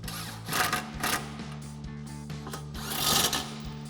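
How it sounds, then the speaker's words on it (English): Impact wrench with a 10 mm socket tightening side step bracket hardware on a Jeep Wrangler TJ, giving a steady, close mechanical buzz with two louder bursts of hammering. "we'll go ahead and tighten down our hardware with our 10 mil socket on our impact"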